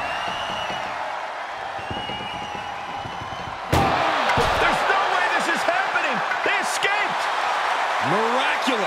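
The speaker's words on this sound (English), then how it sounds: "Trying to at least slam one door shut." An ambulance door slams shut during a wrestling ambulance match, a single loud bang followed by crowd noise and cheering, while a commentator talks over the scene.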